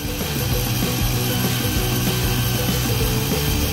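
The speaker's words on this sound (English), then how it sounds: "Now we are drilling screws into the back of the wood." A power drill drones steadily and loudly, with a rapid ratcheting chatter running through it, driving screws into wood without pause.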